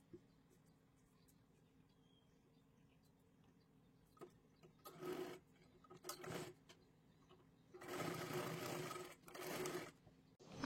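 A sewing machine stitches a sleeve in several separate runs, short bursts first and then a longer stretch, with quiet pauses between them in an otherwise still room.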